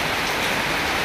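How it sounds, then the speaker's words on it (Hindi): Heavy monsoon-style rain pouring down outside, heard from a stairwell as a dense, steady hiss of drops hitting surfaces, loud and continuous with no talking. "गाइस मुझे लग रहा है फिर से तेज बारिश आ गई"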